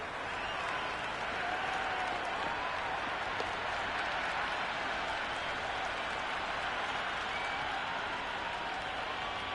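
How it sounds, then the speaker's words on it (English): A large cricket crowd at a T20 match applauding and cheering continuously, a dense wash of clapping and noise from a big audience, steady and loud throughout. "The crowd are really getting quite raucous."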